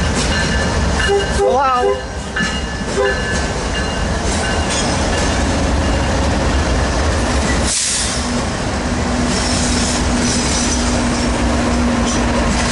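Freight trains pass close at Commerce, including an eastbound port double-stack train, with a steady heavy rumble of wheels on rail, some squealing and clatter, and a brief spoken greeting early on.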